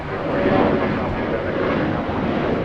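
An airliner takes off at Los Angeles International Airport with a broad, steady engine roar that fills the short stretch without a break.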